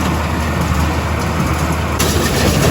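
Hay baler working behind a tractor in a field, pickup teeth, auger and fork packing hay into the chamber; a steady, loud mechanical drone with continuous machinery rumble and no talk.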